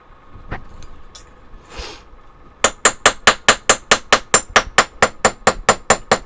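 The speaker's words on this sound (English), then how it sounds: "letting the hammer do the work." After a few scattered knocks, a hammer strikes metal while shaping a whale tail pendant, in a fast, even series of loud ringing blows, close by.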